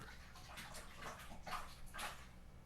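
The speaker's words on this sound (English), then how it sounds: "I'm doing a water change right now, and I dropped the level just a little bit too low" Water sloshes and gurgles softly as a goldfish tank is partly drained for a water change. Faint, uneven splashing comes in a few brief surges and keeps running low in the background.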